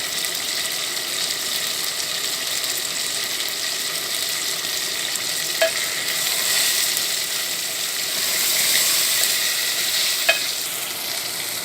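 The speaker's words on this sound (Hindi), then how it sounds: "अब इसको मज़ीद 1 या 2 मिनट भूनेंगे" Chicken karahi with ginger and coriander frying in a pan, a steady close bright sizzle with a couple of sharp clinks of stirring.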